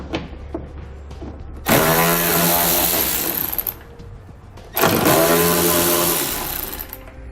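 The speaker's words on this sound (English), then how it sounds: "We'll be using an 8mm socket to pull them out." Power tool with an 8mm socket spinning out taillight fasteners near a tailgate, two loud whirring runs of about two seconds each with a short pause between, close up and without talk.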